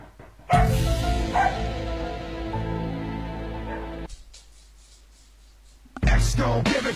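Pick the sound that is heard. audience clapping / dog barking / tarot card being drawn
dog barking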